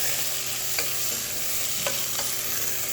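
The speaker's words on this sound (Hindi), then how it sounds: "अब हम इसमें ऐड कर देंगे प्याज हमने 3 से 4 लिए हैं और प्याज को हमने अच्छे तरीके से गोल्डन ब्राउन कर लेना है।" Three to four onions frying in hot oil toward golden brown produce a dense, constant sizzle up close, with a couple of brief spoon-stirring clicks and no speech.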